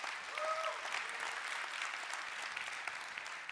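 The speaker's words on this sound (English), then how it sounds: "Better than the first clap we got." An audience at a talk clapping, a faint, even patter of many hands held for a few seconds at a distance, with a brief whistle-like tone near the start.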